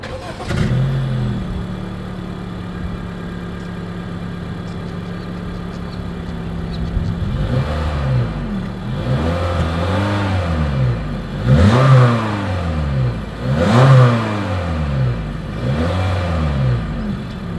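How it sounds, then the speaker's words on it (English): A 2020 Honda Fit starts up and idles with a steady exhaust hum, then gets revved in a series of rising and falling pulls that repeat every couple of seconds, heard close and fairly loud. "As always, here is that exhaust clip."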